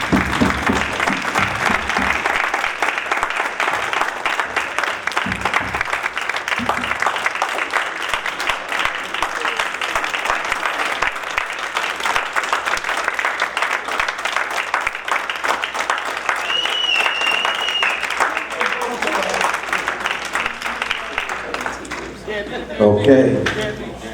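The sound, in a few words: audience applause for Madam Payne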